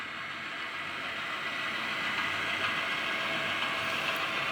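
A model railroad locomotive runs along layout track, giving a steady rushing rumble and hiss that swells slightly louder as it continues, with no voices.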